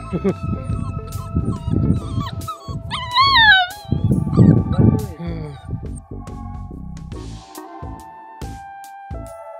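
A puppy whimpers and lets out high, wavering howls amid voices talking nearby at Takmak Tok cliff on Raigad fort; the cries rise and fall in short bursts.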